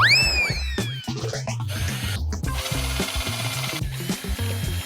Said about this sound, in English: Before I was able to finish drilling the hole, the drill died.